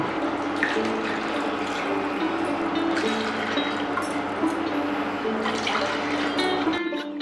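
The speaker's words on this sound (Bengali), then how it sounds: "এবারে যেই কাপের মাপে ডাল নিয়েছিলেন সেই কাপের 3 কাপ জল দিয়ে দিন।" Water runs steadily into a pressure cooker holding washed lentils in a home kitchen, a continuous close pouring and splashing sound with no talking, ending abruptly near the close.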